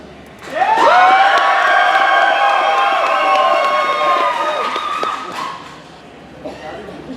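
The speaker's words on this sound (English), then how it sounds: "cheer for the one that you want, the loudest that you want to win" An audience at a Smallville Comic Con kid cosplay contest bursts into loud cheering and high-pitched screams for a first-place pick, holding for about five seconds before fading to scattered voices.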